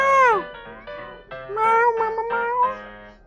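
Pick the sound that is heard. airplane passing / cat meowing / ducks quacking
cat meowing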